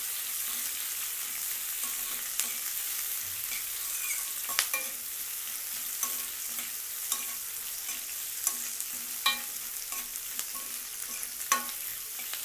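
Onions and two dried red chillies frying in a pan for buttermilk curry, a steady soft sizzle with scattered sharp clicks of stirring, close and even, no talking.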